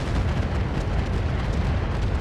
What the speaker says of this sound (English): AC-20 ammo explosion.